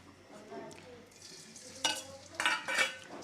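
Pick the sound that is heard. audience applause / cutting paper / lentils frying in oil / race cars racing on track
lentils frying in oil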